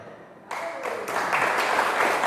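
An audience at a Muhammadiyah gathering in West Sumatra breaks into applause, starting suddenly after a quiet moment and swelling into a broad, steady wash of clapping that builds louder.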